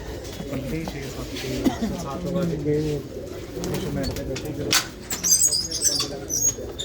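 Male red Cheena pigeons coo steadily in the background while someone talks over them, with a brief flutter of wings near the end.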